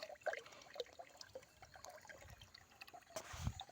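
Water running from a newly bought small pump gadget, a faint, irregular trickling and splashing stream with scattered drips, quiet and close.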